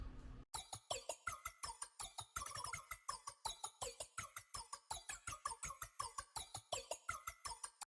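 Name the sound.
glitch percussion in a beat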